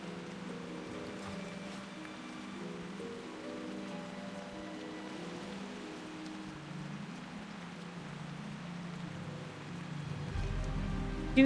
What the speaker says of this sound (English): video game or not, I love the sound of rain